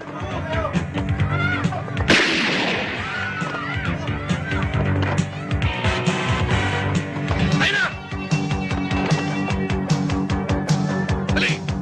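Gunshots ring out in a Tagalog action movie, with repeated sharp bangs over a dense music score and some voices, one burst near the start followed by further shots through the scene.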